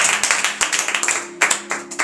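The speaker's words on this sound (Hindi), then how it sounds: "जोरदार तालियां बजाएं ऐसे" A congregation at a Hindi-language Christian sermon claps loudly and quickly in a tight, repeating rhythm of sharp hand strikes, with a low steady tone humming underneath.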